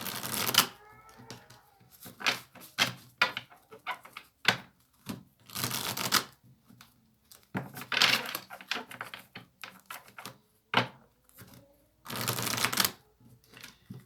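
Oracle cards shuffled and drawn by hand, with bursts of riffling and flicking paper interspersed with soft card slaps and rustles, close and uneven, with no talking.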